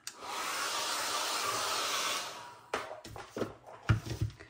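A hair dryer blows on a wet paint layer of a mixed-media painting with a loud, steady whirring rush for a few seconds, then cuts off, leaving soft handling knocks and rustles.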